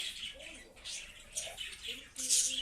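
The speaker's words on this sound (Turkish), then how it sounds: "Minik kuş." Small bird chirps and tweets in a video game come in short bursts, close and fairly clear, with quiet voices murmuring in the background.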